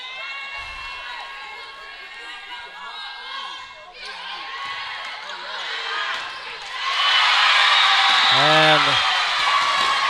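Loud crowd noise at a high school varsity volleyball regional semifinal playoff between Refugio and Flatonia, with a commentator talking over the hall's babble before cheering swells sharply near the end, pierced by a rising shout or whistle.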